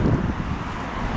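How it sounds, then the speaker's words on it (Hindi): Cold wind gusting steadily outdoors in Canada at about minus twelve degrees, a constant broad rush with microphone buffeting, loud and close, no talk. "ओह ठंडी हवा चल रही है"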